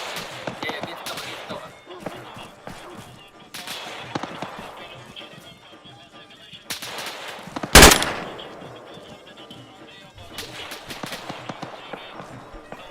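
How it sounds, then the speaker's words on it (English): Gunfire from a milsim firefight in the video game Arma 3, with scattered shots and bursts, one loud close crack standing out, heard under continuous talking and radio chatter. "taking fire from the right"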